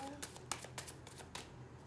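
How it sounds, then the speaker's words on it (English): Tarot cards are shuffled by hand in quick, dry riffling bursts, a handful of short papery rustles close up, at low volume. "Last shuffle"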